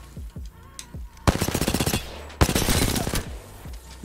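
Automatic weapon fire while shooting an enemy in Apex Legends, with two loud rapid bursts of shots standing out sharply over quieter game sounds.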